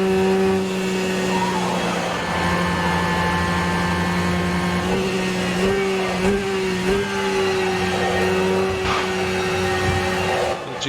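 Porsche 911 GTE in a racing simulator, a sustained whining engine tone with strong harmonics that wavers and shifts pitch through gear changes midway, steady and moderately loud with no talking.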